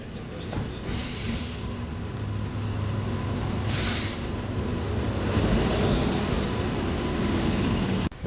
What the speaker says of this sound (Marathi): ट्रेन नंबर 10103 मांडवी एक्सप्रेस ज्या गाडीने आपण प्रवास करतो आहे आज गोव्यापर्यंत, ती आत्ता आली आहे